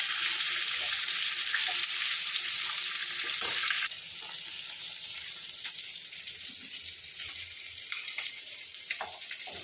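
Potatoes and eggplant frying in a pan, a close steady sizzle with frequent small crackles and pops, a little louder in the first few seconds and then settling to an even, slightly quieter hiss.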